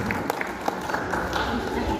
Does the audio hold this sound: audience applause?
yes